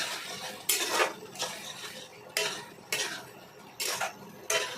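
Spoon scraping and clinking against a pan while spices are stirred into tomato chutney, six sharp metallic strokes at an uneven rhythm, close up with no talk.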